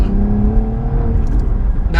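A Cadillac ATS-V twin-turbo V6 accelerates hard from inside the cabin, its engine note piped through the speakers and rising in a loud, steady drone for two seconds with no talking.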